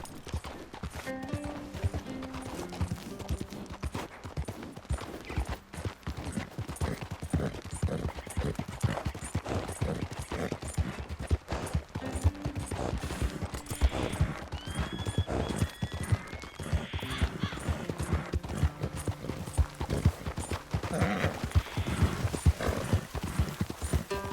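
Steady clip-clop of horse hooves trotting continuously in the video game Red Dead Redemption 2, with an occasional whinny and faint mechanical clicks in the background.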